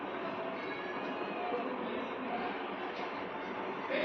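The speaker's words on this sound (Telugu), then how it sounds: "ట్రైన్ ఆగిపోయింది." A train rolling along the track, a continuous loud rumble of wheels and carriages with faint squeals, steady from start to end with no speech.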